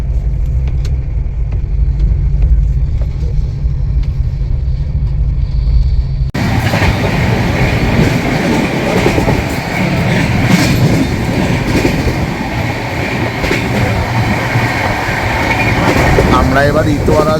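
The Sealdah–New Delhi Rajdhani Express (12313) running on rails through Itwari Junction, heard from inside a 2AC coach: a loud, steady rumble with rhythmic clickety-clack of wheels over joints, plus a brief voice early on.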